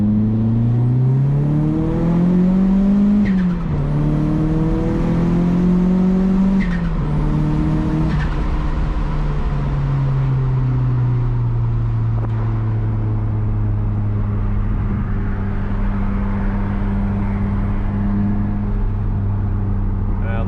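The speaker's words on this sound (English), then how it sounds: "love the turbo noises that it makes" A Nissan 240 car engine drones loudly and continuously, its pitch rising and falling with acceleration, accompanied by a whirring, whistling turbo sound.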